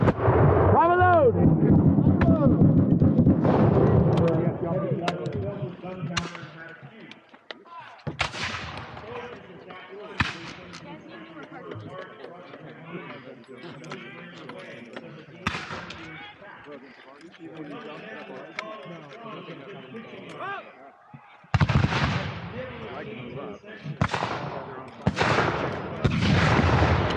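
Reenactors at Mount Vernon fire muskets in a volley: several sharp, loud shots crack out separately and in a rapid cluster, each followed by a fading echo. Shouted commands and people talking run between and over the shots.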